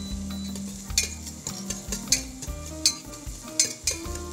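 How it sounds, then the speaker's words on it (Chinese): Minced garlic stir-fries in hot oil in a wok, giving a steady low sizzle broken by repeated light clinks of a metal spatula against the pan, close and moderately quiet. "把蒜末放进去，完了以后呢，透过那个热油热锅爆香"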